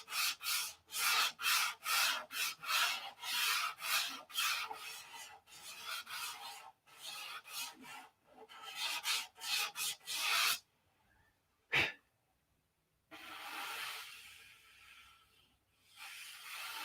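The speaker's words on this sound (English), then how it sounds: "Yeah, it sands real easy." Close, rhythmic rasping strokes of sandpaper smoothing a fillet on a P-47 model aircraft, brisk back-and-forth bursts that pause, return briefly, then resume more softly.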